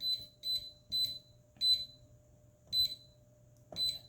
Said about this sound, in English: I pushed the reset button, and it beeped a couple of times